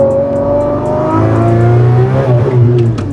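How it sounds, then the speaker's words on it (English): A rear-wheel-drive manual car downshifts from fourth to third to second with rev-matching blips, its loud, close engine note swelling and falling in quick surges with no talking. "rev matching and downshifting excessively for no reason, just to hear the engine spool up"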